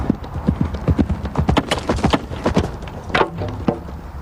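Hooves clatter in a fast, uneven galloping rhythm as a horse charges with a rider holding a lance. The sharp thuds are close and loud, with some rattling of gear mixed in.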